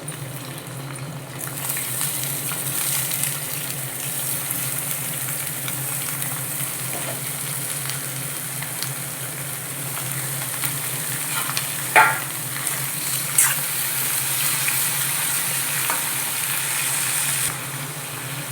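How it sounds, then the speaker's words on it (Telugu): Brinjals fry in a pan with dried red chillies that have burnt black, giving a loud continuous close sizzle with a couple of sharp clinks partway through and no talking. "ఎండుమిర్చి మాడిపోయింది, వంకాయలు అయితే వేసుకుంటున్నా."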